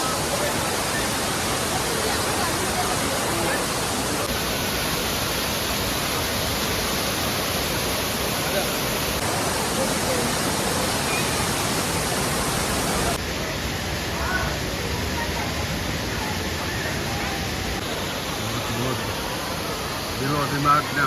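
Water rushes steadily near a waterfall in the hills of Mussoorie, a dense, unbroken roar that fills the whole scene at close range without pause.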